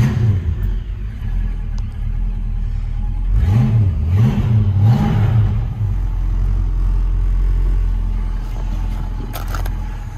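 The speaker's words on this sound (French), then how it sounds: "le son du V8 à vous faire écouter sans modération" A 1967 Ford Mustang V8 coupe starts with the key and settles into a deep, loud idle close by, with a pair of rising revs in the middle before it drops back to a steady rumble.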